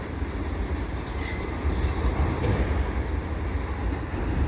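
CP freight train cars rolling past at a trackside crossing near Dorval, with a steady loud rumble of wheels on rail and brief squeals of wheel flange throughout.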